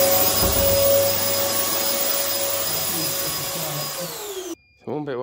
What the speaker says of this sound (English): the hand dryer still works